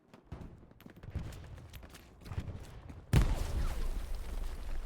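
Gunfire in the World War II shooter Hell Let Loose during a competitive match: scattered rifle shots crackle at first, then a sudden loud burst of sustained automatic fire takes over and keeps rattling to the end.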